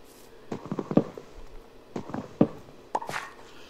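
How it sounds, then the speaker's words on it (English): Axe chopping a tree in a survival video game, a few bursts of quick knocking thuds in clusters with short pauses between them, moderately close and without voices. "I have an axe that's handy. Up, up, and away. Ouch. Okay, let's start chopping."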